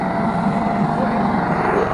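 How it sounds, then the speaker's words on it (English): A helicopter engine fires up just behind a fence, a loud, close, steady roar and whine with a dense rumbling texture filling the moment. "we've just heard something fire up, and I'm pretty sure it's an helicopter just behind this fence here"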